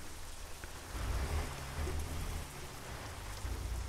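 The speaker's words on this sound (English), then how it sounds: "And plus it's raining too." Steady video game rain pattering down in American Truck Simulator with a low rumbling undertone, continuous and fairly close, with no voices.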